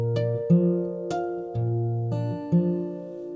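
Acoustic guitar chiming bell-like harmonics in a fingerpicked pattern, alone, with several sustained ringing notes struck in a steady rhythm and overlapping decays.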